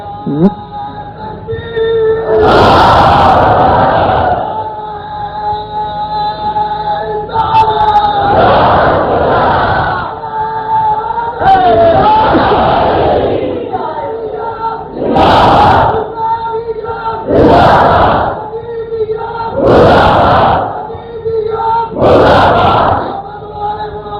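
A majlis crowd chants religious slogans in loud, rhythmic collective bursts, roughly seven surging shouts spaced a few seconds apart, with a speaker's voice filling the gaps between them.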